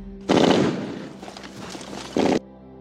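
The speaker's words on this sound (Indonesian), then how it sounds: "Sebuah tembakan senapan mesin memecah konsentrasi kompi" Machine gun fire in a World War war film: two loud sharp bursts open and close the stretch, with a lower sustained rattle and rumble between them.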